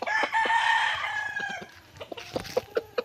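Aseel rooster in a backyard crowing loudly and close, then breaking into a series of short, sharp clucks.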